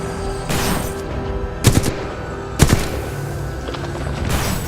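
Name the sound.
gunfire from a robot in video game Titanfall 2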